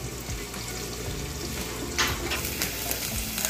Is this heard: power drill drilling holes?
no